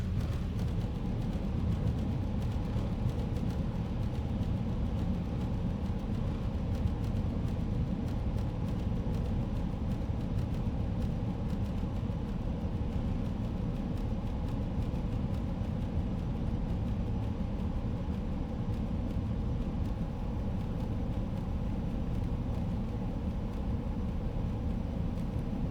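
Concorde in a flight simulator game landing with reverse thrust, a steady broad roar and rumble held at constant level throughout, with no distinct changes.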